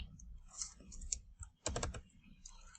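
C++ code being typed on a computer keyboard, a faint close patter of key clicks with one quick rapid burst in the middle, no talking over it.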